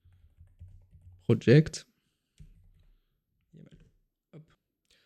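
Keys clatter on a computer keyboard while a new file is being created, a short quick burst of close clicks followed by a few sparse taps, with someone speaking briefly in between.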